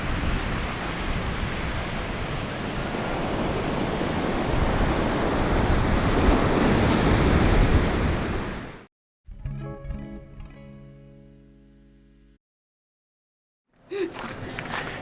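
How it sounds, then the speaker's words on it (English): Surf at Grand Anse des Salines beach in Martinique rolls in as a loud, steady wash of breaking waves, then drops out abruptly before briefly resuming. "We made it. To the beach. To Grand Anse des Salines."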